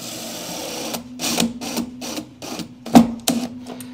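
Screw driven into a 3D-printed plastic wall panel brace with a power driver, several short whirring bursts in quick succession, close and loud, each stopping as the screw snugs in.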